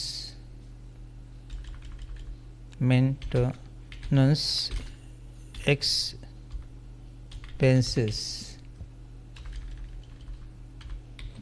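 Computer keyboard keys are typed in short bursts of quick clicks, close and clear, while a person speaks intermittently over them during accounting data entry.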